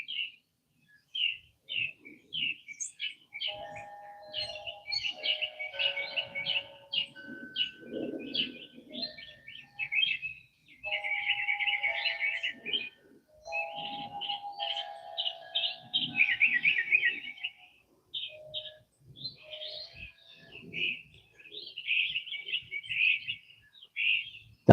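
Backyard birds at dawn chirp and tweet in quick repeated bursts, with a lower cooing dove joining in between, the calls fairly close and clear over a quiet background without talk.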